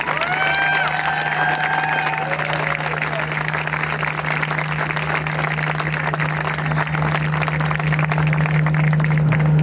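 Large crowd at an outdoor celebration cheering and applauding steadily for the full stretch, a loud continuous wash of clapping with shouts and whistles, and a steady low hum underneath.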